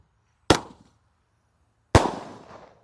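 A 0.8-inch five-shot Roman Candle firework fires two sharp, loud pops about a second and a half apart, the second trailing into a short crackling hiss, with quiet gaps around them.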